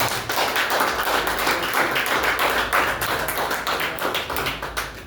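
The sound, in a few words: church congregation clapping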